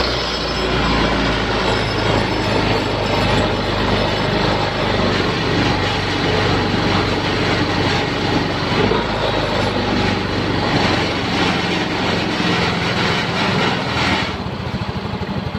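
A Yamaha Soul GT 125 automatic scooter with a stalling fault idles after a kick start, giving a loud, steady, close engine drone with a broad mechanical roar throughout and a slight change near the end.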